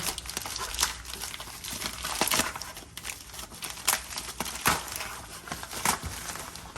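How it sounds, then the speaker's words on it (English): Plastic packaging around a Pedal Commander throttle controller is ripped open by hand, with close, crinkly tearing and crumpling in irregular bursts and sharp snaps throughout. "Let's go ahead and rip that open."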